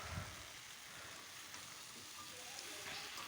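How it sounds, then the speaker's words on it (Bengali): Spices sautéing in a pan for a prawn dish, giving a faint, steady sizzle and crackle with no one speaking. "তো এদিকে আমি ভালো করে সুন্দর করে কষিয়ে নিচ্ছি"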